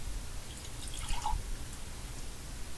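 Water drips and splashes faintly while a paper-strip glue-and-water mixture is prepared, a few small droplet sounds in the middle of a quiet, noisy room.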